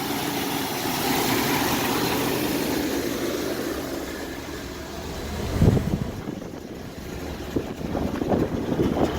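A 1994 Dodge Dakota with a swapped-in 5.2 V8 idles steadily nearby with a slight misfire, a continuous low rumble with a brief louder thump midway.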